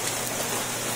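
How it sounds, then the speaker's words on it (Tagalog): Heavy, unceasing rain pours down in San Miguel, Bulacan, a dense, even hiss of drops on surfaces that stays loud and constant from start to finish. "walang tigil na pag-ulan."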